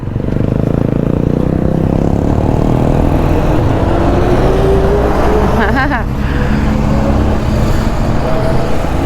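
Dense Cairo street traffic near Garden City and the Nile rumbles loudly and close, with engines idling and revving, a rising engine whine and a brief scraping rattle midway.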